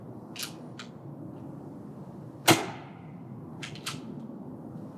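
A Tokyo Marui MK23 airsoft pistol fitted with a suppressor and a fully loaded magazine fires a single sharp, snappy shot midway through, with a couple of faint clicks before and after it over quiet background.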